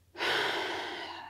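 A single deep, audible inhale through the nose during a yoga stretch begins sharply and then fades slowly into a long, airy breath, close and alone.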